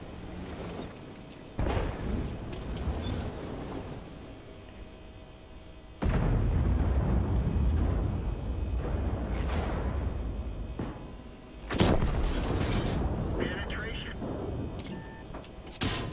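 Tank cannon shots in World of Tanks on the Kursk map, two or three heavy booming blasts spaced a few seconds apart, each trailing a rumbling decay, with a voice talking over the game sound.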